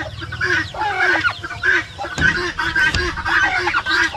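Young turkey chicks being fed rice cheep and call repeatedly close by, with rhythmic peeping over soft pecking and scuffling noises.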